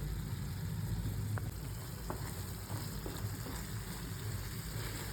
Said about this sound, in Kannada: ನೋಡಿ ಆ ತುಪ್ಪ ಬಿಡ್ತಾ ಇದೆ, ಮಸಾಲೆ ಎಲ್ಲ ಚೆನ್ನಾಗಿ ಕುದ್ದಿದೆ